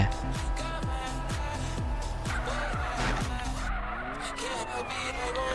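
Tires on a Lamborghini Urus in the MTA driving game squeal and skid in a run of sharp, repeated slides over a loud, continuous engine roar, with a voice talking faintly underneath.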